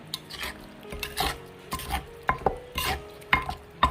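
Spicy Thai eggplant salad being tossed and mixed by hand in a bowl, giving rhythmic close scraping and clinking of utensils in repeated strokes, with no voices.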